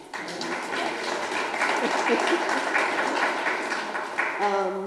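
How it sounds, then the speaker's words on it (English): Audience at a breakfast event applauding after a park funding announcement, a steady wash of clapping across the room with voices mixed in underneath. "So that deserves a clap."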